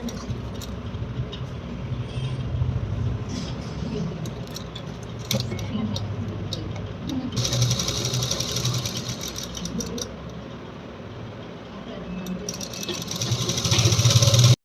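Sewing machine stitching a folded half-inch hem on an A-line frock, a steady mechanical run with brief pauses and restarts over about fifteen seconds, close and moderately loud, with faint background noise.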